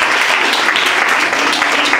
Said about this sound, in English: Wow, can we clap for them?